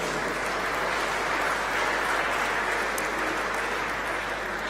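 Steady applause from an audience at an aviation summit, thanking speakers and moderators, a dense continuous wash of clapping at even loudness throughout.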